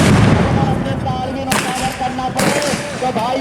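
Stun grenades set off by police during a riot control drill in Bhopal, two sharp broadband blasts cracking out about a second apart over a noisy outdoor crowd and steady background din.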